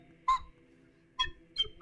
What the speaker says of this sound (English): I can play it on my slide whistle.